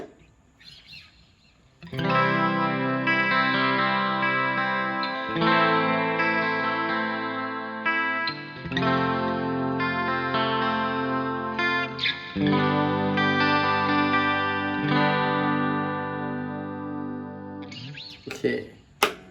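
A Schecter 006 Extreme Diamond Series electric guitar plays a clean tone, with chords strummed several times and left to ring in a bright, sustained tone. Brief talk and handling noise come at the start and end.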